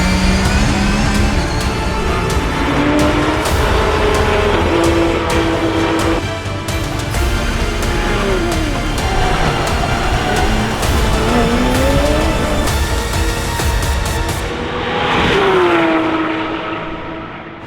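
Porsche race cars in a Porsche Endurance Sports Cup event lapping a Grand Prix circuit, engines screaming loudly and continuously with rising and falling revs through gear shifts, passing close by with no talk.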